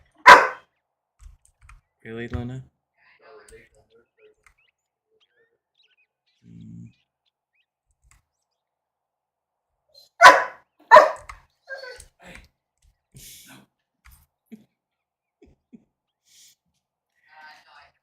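Luna the dog barks and yips in short, separated bursts in a quiet room, with long silent gaps between them, while a person speaks briefly to her.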